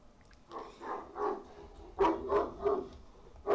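A dog barks in a steady series of about seven muffled woofs, moderately loud and somewhat distant, as if from another room, with no talking over it.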